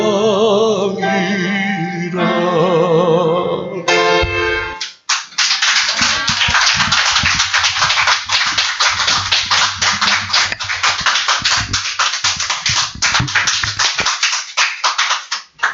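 A church congregation claps along to a gospel hymn based on 1 Corinthians 13, a steady rhythmic beat of many hands that follows a short sung passage and continues for about ten seconds.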